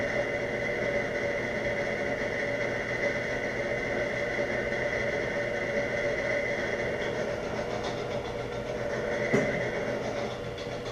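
A Trans World Steel VHM-728 horizontal/vertical milling machine runs at its lowest speed of 397 RPM, giving a steady mechanical hum with an even whine and faint rattle that barely changes throughout.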